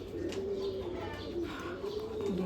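Pigeons brought from Pakistan cooing steadily and close, a continuous run of low, rolling coos with a few faint chirps from other birds behind.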